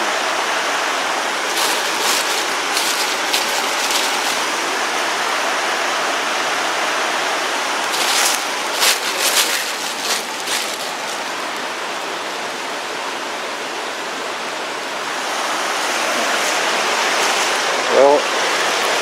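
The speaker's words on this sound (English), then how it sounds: "There's just several balloons just sitting here by the" A flowing outdoor stream rushes in a loud, steady broadband wash for the whole stretch, with faint brief knocks and handling noises on top.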